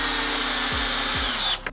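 A Bosch 12V installation drill runs in speed 1 with a 4-inch spade bit, a steady close motor whine with a couple of brief dips in pitch as it loads up, then winds down at the end.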